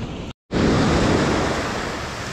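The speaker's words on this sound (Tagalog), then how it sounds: "Malakas yung alon." Strong sea waves surging and crashing along a rocky shoreline in Salalah, Oman, a loud, continuous broadband roar after a brief silent gap, with no voices.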